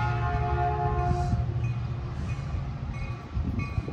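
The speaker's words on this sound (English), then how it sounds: "here comes the northbound Caltrain" A northbound Caltrain commuter train rumbles into Santa Clara Station with a steady low roar and ringing tonal whine, a horn sounding briefly, moderately loud at close range.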